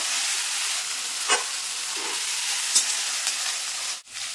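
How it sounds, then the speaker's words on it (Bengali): Ginger-garlic paste fries in oil, making a steady close hissing sizzle with a few light stirring clicks. "আদা রসুনটা একটু ভাজা ভাজা করে নেব"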